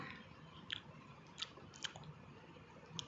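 Someone eats a soft bread dessert made without cream, butter, egg or oven, producing four faint, evenly spaced chewing and biting clicks over a quiet background.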